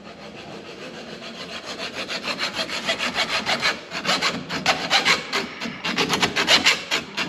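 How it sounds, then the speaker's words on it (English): A hacksaw cuts through brass clamped in a vise, giving steady back-and-forth rasping strokes that grow louder and faster toward the end, heard alone and up close. "If you ever cut brass with a hacksaw,"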